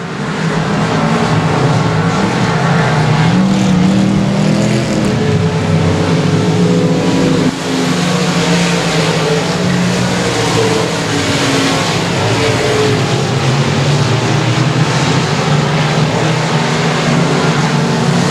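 Race cars at Sabine Speedway thunder around the oval in a loud, continuous roar, engines droning and shifting pitch as the pack charges through the turns, with no break in the noise.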